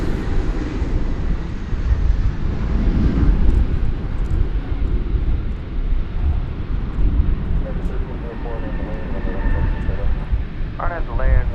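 A jet airliner roars past at DFW Airport on a morning of CRJ traffic, a loud broad rumble that swells and slowly fades, with a voice talking over it toward the end.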